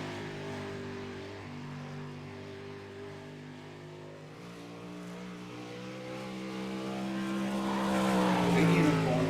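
A race car engine drones steadily during qualifying at Knoxville, its pitch rising toward the end as the car accelerates and draws nearer, growing louder.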